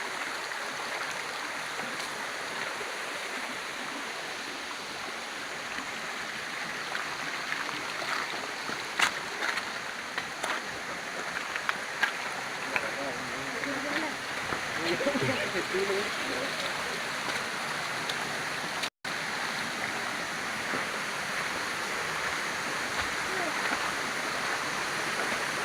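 Waterfall at Baso, Agam, West Sumatra, a steady broad rushing roar of falling water that fills the scene throughout, with faint voices and footsteps occasionally heard beneath it.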